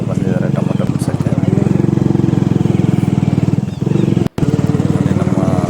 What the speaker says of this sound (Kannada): ನೋಡಿ ನಮ್ಮ ಮಗ ಯಾವ ಥರ ಗಾಡಿ ರೈಸ್ ಮಾಡ್ತಾಯಿದ್ದಂತ